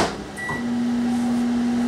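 A microwave oven hums steadily through its run, with a faint click near the start, close and fairly loud, no voices.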